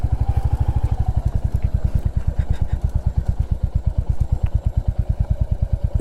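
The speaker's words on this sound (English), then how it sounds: "You need to be a little careful while riding here, because especially for the low ground clearance bikes like my bike" A low-ground-clearance motorcycle is ridden on a hill road, its engine thumping loud and close in a steady rapid pulse that holds throughout.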